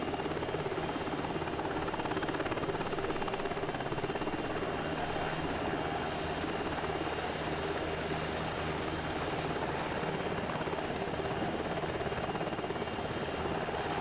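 Steady, loud jet engine drone of a Boeing Dreamlifter cargo aircraft in the Prepar3D flight simulator, a broad continuous roar with a faint higher whine, unchanging throughout with no voices.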